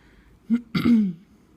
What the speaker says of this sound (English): Sorry for clearing my throat.